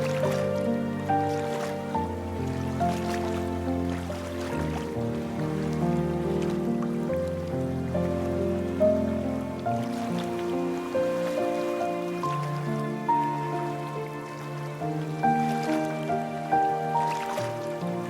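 Rain falls in a scene from the video game Love and Deepspace. The patter and drips are soft and continuous, set under sustained musical tones that run the whole time.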